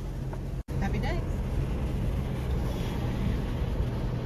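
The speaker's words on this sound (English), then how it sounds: "Wind blowing in your hair." Wind blows across a microphone on Woodgate beach, giving a constant, fairly loud rushing rumble with a brief dropout near the start.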